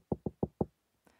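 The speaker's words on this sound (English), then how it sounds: "Knock, knock." Four sharp knocks on a room door come in a quick, even sequence, close and loud, followed by a faint rustle.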